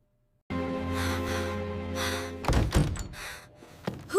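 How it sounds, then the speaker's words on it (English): School doors slam shut with a heavy thunk after a sustained tonal hum, followed by a few smaller knocks and a sharp breath or gasp. "Why did the doors close so loudly behind me?"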